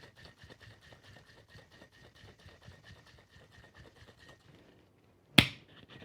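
A Clover Club cocktail shaken hard in a lidded mason jar without ice, a fast, even rattling rhythm for several seconds, then a pause and a sharp thump as the jar is set down.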